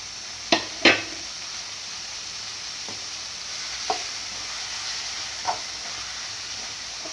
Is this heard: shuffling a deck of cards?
no